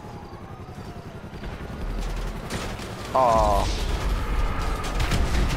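Explosions and gunfire in Grand Theft Auto V during a helicopter attack, a dense rumbling barrage of booms and crackling shots that swells louder midway, with brief exclamations from a player over the din.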